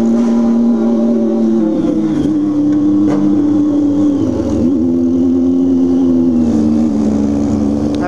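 A motorcycle engine runs steadily on a cold day, a loud, continuous mid-pitched drone with slight rises in revs, heard close and without talk.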